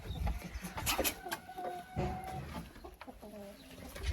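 Chickens cluck softly in a coop, with a few scattered clucks and short calls over faint background noise, fairly quiet and without talking.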